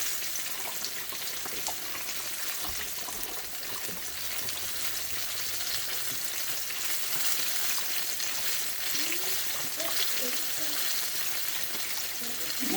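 Potatoes in a pan with broth poured in to just cover them hiss and bubble steadily up close, with a brief soft voice and light utensil sounds partway through.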